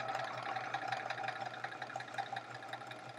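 A sewing machine chain-pieces quilt pieces for a chevron quilt, its needle chattering in a fast, steady run that carries on without pause for the whole stretch, close and moderately loud, with no voices.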